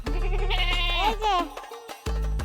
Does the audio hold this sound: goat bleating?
yes